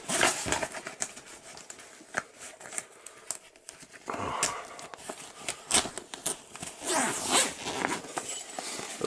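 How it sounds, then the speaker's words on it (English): Zipper on a Milwaukee tool bag holding an impact wrench and ratchet being pulled open in several short, scratchy bursts, close up with small rustling between pulls. "the zipper is a little bit of"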